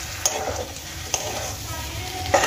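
Fried eggs stirred together with potatoes and spices in a pan for an egg curry, with three distinct scraping strokes spaced unevenly over a continuous soft sizzle, up close and with no talking.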